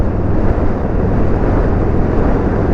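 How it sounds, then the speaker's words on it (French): Wind roars steadily past the microphone during a Buell motorcycle ride through the hills of northern France, a loud, dense, unbroken rumble with no voice heard. "Il y a toujours ce vent."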